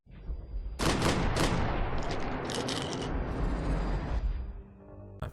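Dense burst of video game gunshots from the Max Payne 3 logo intro: rapid overlapping rounds and booms that fire loud and close for several seconds, then thin out.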